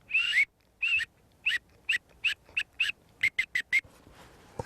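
A series of about a dozen sharp, shrill hunting whistle blasts signaling net hunters, spaced apart at first and then coming faster and shorter toward the end.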